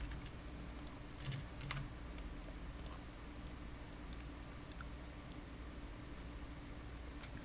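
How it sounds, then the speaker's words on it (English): Password being typed on a computer keyboard while logging into a server, a few soft, scattered key clicks over a steady low hum of background noise. "So I'm going to type my password."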